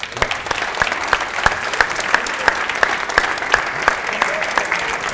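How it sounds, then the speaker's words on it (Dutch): Audience at a carnival event in Maastricht applauding to welcome the city's mayor, a steady, dense wash of clapping with rhythmic sharp claps running through it, close and sustained. "maak een goed applaus voor zijn eigen de enige echte burgemeester van Maastricht, Wim Hillenaar."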